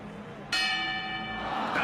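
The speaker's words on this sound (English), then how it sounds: "And there's the bell!" A boxing match round bell rings out with a sudden bright metallic strike that sustains and rings on, loud over a busy arena background, in an animated boxing scene.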